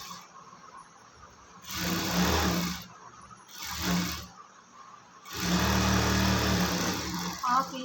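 A sewing machine stitches a half-inch seam on a cotton summer frock in three separate bursts, each a steady whirring run of about one to two seconds, with quiet pauses between them.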